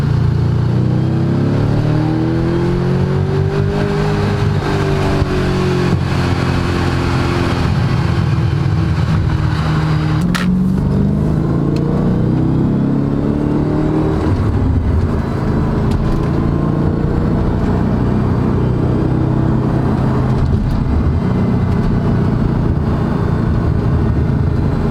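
An Audi fitted with an AWE Tuning track edition exhaust drones loudly up close, revving up and easing back repeatedly with a sharp blip around the middle and no talking.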